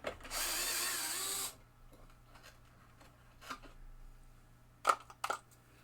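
A power drill whirs steadily for about a second, backing longer screws out of a 1975 Bally Bow and Arrow pinball playfield, followed by quieter clicks and a couple of sharp knocks.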